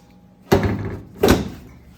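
A 1966 Triumph GT6 car door, fresh from window frame repair, shuts with two close, solid thunks about three-quarters of a second apart, each ringing briefly before fading.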